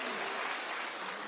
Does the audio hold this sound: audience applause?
yes